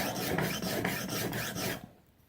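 A kitchen knife is drawn across a sharpening stone in steady, repeated rasping strokes, working toward the tip, close and loud, before stopping abruptly.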